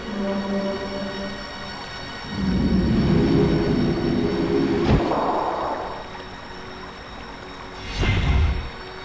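A tram rumbles and clanks along its track in The Dig adventure game, rising from a low hum to a heavy rolling rush with a sharp metallic clack midway and another surge near the end.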